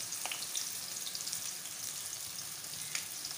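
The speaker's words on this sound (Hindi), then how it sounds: "तो मैं ये प्याज डाल रही हूँ" Onions frying with kalonji seeds in a shiny kadhai give a steady close sizzle with a few faint stirring scrapes and crackles, no talk over it.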